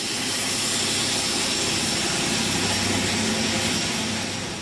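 Intercity 125 high-speed train with a Paxman Valenta diesel engine, giving a loud, steady high-pitched scream that holds unbroken over a broad roaring rumble throughout.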